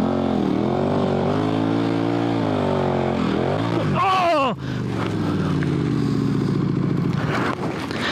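Adventure motorcycle on Michelin Anakee Wild 50/50 tires riding at about 45 mph across soft sand and decomposed rock, engine drone loud and steady with a rising rev and a brief dip midway, under a voice talking.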